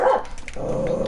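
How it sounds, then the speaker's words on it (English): A pet dog barks sharply a few times up close, followed by a continuing growl or whine at the same close range. "My fucking dog wants to bark"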